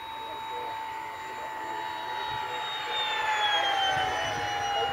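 RC model ZD FLY C-47 / DC-3 airplane cruising at half throttle, a steady engine whine with a slight pitch drift, heard at a moderate distance outdoors.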